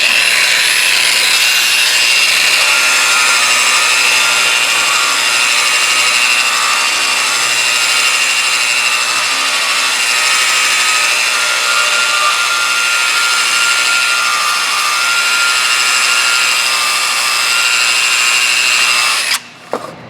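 A low-RPM, high-torque finishing tool grains a stainless steel surface back and forth, a loud, continuous whirring grind held close for about twenty seconds before it cuts off abruptly.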